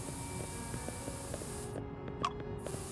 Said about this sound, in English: Oh yeah, dark blue spray paint.